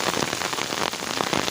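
Heavy rain pours steadily onto a forest, a dense, close hiss of countless drops hitting leaves and ground with no pause and no voices.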